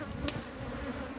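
Bees buzzing at a honey-filled wild hive set in a rock cliff face, a steady close insect drone lasting barely a second with no talk.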